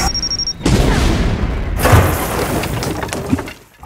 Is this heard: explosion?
yes